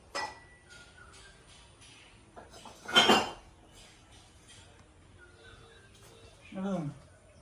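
Plant pots handled at a nursery give a few ceramic clinks and knocks, one louder clatter near the middle, with people talking and moving around between them.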